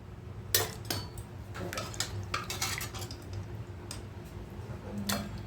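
Metal utensils clink against a bowl while meat is served out, light irregular taps and scrapes over a steady low hum, close by.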